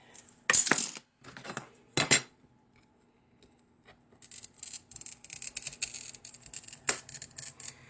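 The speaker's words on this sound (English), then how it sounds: "Right now I'm using a Toyo pistol grip cutter" A Toyo pistol grip cutter with cutting oil scores glass sheets for a flower pot panel. Sharp scratchy scoring strokes and clinks come up close, then a longer run of rapid gritty scoring.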